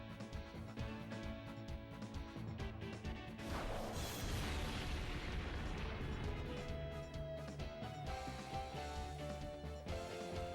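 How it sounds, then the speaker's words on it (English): Regirock unleashes the Explosion move in Pokemon XD: Gale of Darkness, a loud crashing blast that swells midway over continuous game music. "Regirock is using Explosion here."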